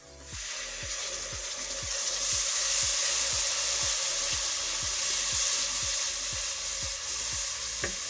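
Onion paste with green chili and garlic sautés in a pan, hissing loudly and steadily while a spatula scrapes the bottom in quick, regular strokes.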